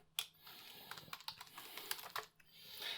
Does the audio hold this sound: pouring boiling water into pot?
no